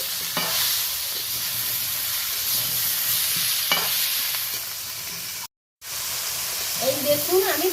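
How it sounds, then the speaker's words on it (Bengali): Lightly fried vegetables stirred in a pan for a Bengali chilli curry, a steady close sizzle with occasional scraping strokes of the spatula, a brief dropout near the end and someone speaking softly at the close. "আরও দু চারবার আমি ভালো করে নেড়ে নেব"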